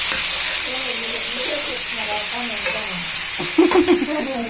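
Garlic, cumin, mustard seeds, chana dal and green chillies fry in hot oil as a tempering, a steady loud sizzle and hiss with a faint voice underneath and a brief stir near the end.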